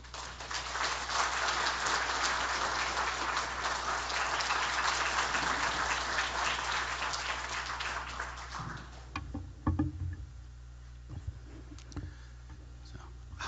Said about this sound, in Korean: 우리 임현수 목사님 나오시면 우리 박수로 환영하도록 하겠습니다